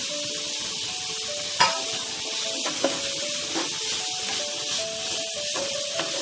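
Carrot, beetroot and golden peas stir-fried in a pan, giving a steady sizzle with scraping stir strokes and a few sharp clinks of the spoon against the pan, close and continuous with no talking.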